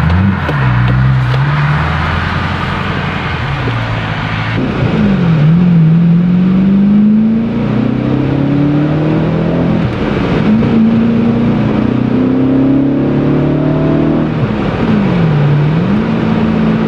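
Inside a BMW M3 on the road, the engine drones loud and close as it accelerates through several gears. The pitch climbs steadily, then dips at each shift.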